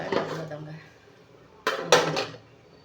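Ragi flour being stirred into boiling millet in a pot, heard as two short bursts of metal spoon scraping and clanking against the pot after a brief stretch of speech, fairly close and moderately loud.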